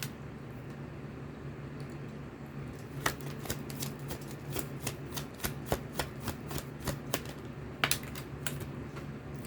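Tarot cards being laid down one by one on a table, a steady run of crisp papery snaps and slaps that quickens after a few seconds, close and clear over a faint low hum.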